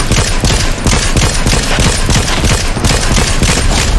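Continuous automatic gunfire from a Fortnite match, loud and dense, rapid shots overlapping without a break for the whole stretch, with no speech.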